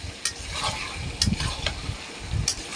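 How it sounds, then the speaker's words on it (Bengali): Washed chicken pieces frying in hot oil as they are stirred, a soft steady sizzle with a few sharp scrapes of the spoon against the pot, close by and without talk. "মাংসটা ঢেলে দিলাম মাংসটা ঢেলে এবার ভালো করে কষে নিতে হবে"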